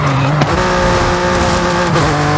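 An Audi RS4 engine in the racing video game Forza Horizon 5 drones loudly and steadily, with sustained tonal notes that shift pitch around brief gear-change breaks and some tire noise.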